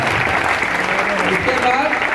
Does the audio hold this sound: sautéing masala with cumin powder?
no